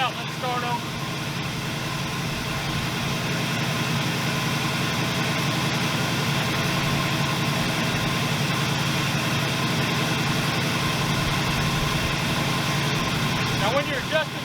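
An engine idles steadily and loudly throughout during carburetor adjustment, a continuous rough drone with someone talking over it.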